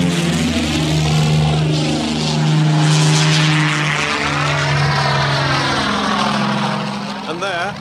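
A cartoon propeller airplane engine drones steadily and loudly throughout, its pitch wavering as it runs, with cartoon voices and sound effects layered over it.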